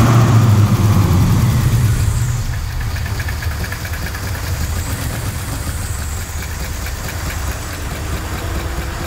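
A swapped car engine idles with a strong low rumble and rough knocking pulse, a light throttle blip lifting it near the start before it settles back into a steady, close idle.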